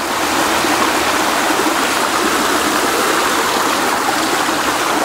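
Water pouring at a waterfall, a loud, steady rushing roar close by that continues without a break, with no voices.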